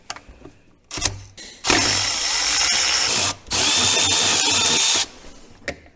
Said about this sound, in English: we'll grab this 10 mil and hopefully be able to convince these bolts to come out of here.